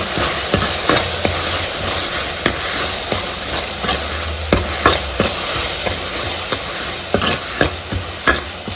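Tomatoes with salt sizzle in a pan for sambar while a spoon stirs them, giving a continuous close frying hiss with repeated scraping and clinking strokes throughout, no talk.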